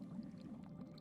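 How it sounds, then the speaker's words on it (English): Aquarium filter in a dim room, giving off a soft, unbroken, low watery murmur that stays faint and even throughout. "The filter's soft, unbroken murmur."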